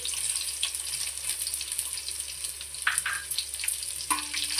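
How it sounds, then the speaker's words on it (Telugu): Garlic cloves fry in well-heated oil, giving a steady broadband crackle and hiss with scattered sharper pops and spits, close and fairly loud with no voices. "ఇక్కడ ఆయిల్ బాగా హీట్ ఎక్కింది కదండి ఇప్పుడైతే ఎల్లుల్లిపాయలు వేసుకోవాలి"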